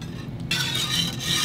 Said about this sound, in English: we're just gonna go ahead and whisk that in